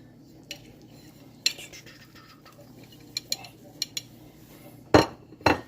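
Cheese is tipped into a pan of wild turkey and mushroom alfredo sauce and stirred. Soft scraping and scattered metal clinks and knocks of a utensil against the pan come near, with two louder clatters toward the end.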